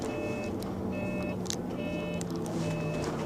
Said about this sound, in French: J'adore ce bip bip dans les bus là, dans les clignotants là